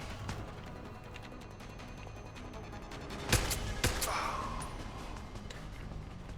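A few sharp gunshots ring out in Deus Ex: Human Revolution, two loud cracks close together over a steady low background hum, followed by a fainter whine.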